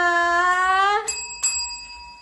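A bright notification bell chimes on a descending series of tones, then two sharp ding strikes ring out and decay, loud and close with no talking.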